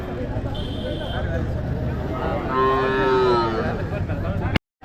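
Cattle at a busy Tuesday cattle market in Tamil Nadu, including cows with calves, give a loud, drawn-out moo near the middle, rising over the steady murmur of the crowd and someone talking throughout.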